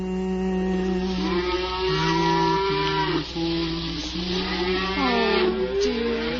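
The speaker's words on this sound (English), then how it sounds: "It's only the cows. They're driving them home now." Several cows mooing as they are driven home, long loud drawn-out lows overlapping one another, close and continuous with no talking.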